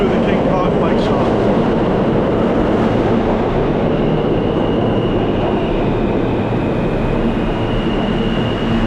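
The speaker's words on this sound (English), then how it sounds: "the 4th and final train is pulling into the station" A New York City L subway train pulls into the station with a loud, steady rumble and roar of wheels and cars that fills the whole stretch close by.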